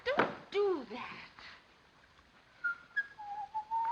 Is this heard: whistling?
yes